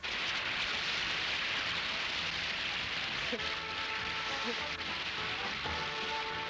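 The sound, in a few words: rain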